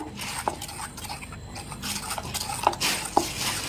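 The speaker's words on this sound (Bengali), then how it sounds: "এরকম অল্প অল্প করে ময়দা মিশিয়ে নেব আমি।" Flour being stirred a little at a time into a milk batter for Bengali mango malpua: soft, continuous wet mixing and scraping, with a few sharp utensil clinks against the bowl, close and fairly quiet.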